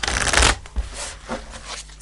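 Tarot cards are shuffled by hand close up in a fast riffling flurry, followed by softer intermittent shuffling and card slaps, with no speech.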